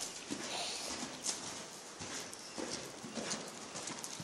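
A horse canters on a left lead in a training session, its hoofbeats thudding in a quick, irregular rhythm at a moderate distance, fairly faint, with no voices.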